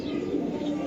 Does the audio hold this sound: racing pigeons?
yes